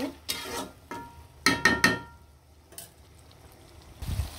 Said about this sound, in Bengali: সবগুলো টমেটো কিন্তু দিয়ে দিব। দিয়ে ভালো করে নাড়াচাড়া দিয়ে দিব।